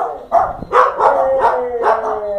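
A pet dog barks in five quick, loud, close yips and woofs in a home, evenly spaced with a tonal, slightly whiny edge and no talking over them.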